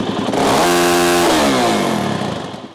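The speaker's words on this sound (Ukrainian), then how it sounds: "Один з найяскравіших мотоциклів Сузуки Павла В'юна." A Suzuki motorcycle engine runs close and loud during a Ukrainian biker motorcade in Rivne, holding a steady tone, then climbing and falling in pitch as it revs over about three seconds, with no talking.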